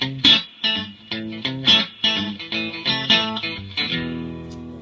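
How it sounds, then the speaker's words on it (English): Electric guitar played through a NUX MG-200 modeling processor on a blackface Fender Deluxe Reverb amp model, with a clean, fat tone: a series of plucked notes and chords, then a final sustained chord ringing out, heard alone and up close. "This is modelled on a Fender Deluxe Reverb."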